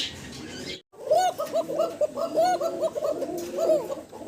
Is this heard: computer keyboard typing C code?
no